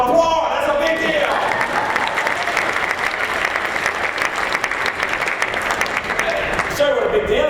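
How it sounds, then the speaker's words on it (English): An audience at a Howard County gathering applauds enthusiastically, with loud, sustained clapping close up throughout and a voice briefly audible near the start and end. "Applaud! That's a big deal!"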